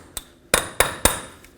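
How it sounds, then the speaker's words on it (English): Hammer blows on a steel punch to break a Chevy Silverado front axle free of the hub, four sharp metallic strikes in a quick, slightly uneven rhythm, close and ringing briefly. "with a punch and a hammer, make sure that your axle breaks free"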